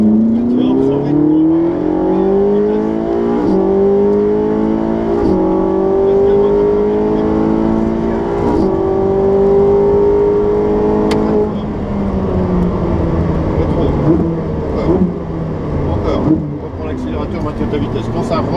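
A Ferrari 458 Special engine pulls hard under acceleration, a loud continuous rising roar with climbing harmonics and shifts in pitch as it revs, heard from inside the car with a voice talking over it.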